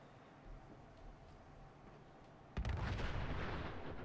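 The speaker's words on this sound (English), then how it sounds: "Yep, it exploded." An explosion from the video game Sim Settlements 2 hits suddenly after quiet game ambience, a loud, booming blast whose rumble carries on to the end.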